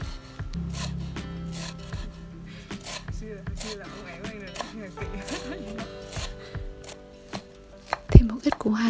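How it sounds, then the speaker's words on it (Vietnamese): Lemongrass being smashed and minced on a wooden board, heard as a steady run of close, rhythmic knife chops and dull thuds that ends in a sharp knock, with no talking. "Tiếp theo là đập xả và băm xả."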